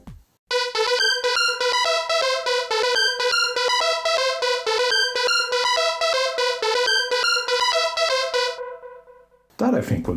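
A Korg Volca Keys synthesizer plays a bouncy, repeating melodic chord pattern for Chicago house, loud and steady with crisp rhythmic gating, fading out near the end before a brief noisy burst.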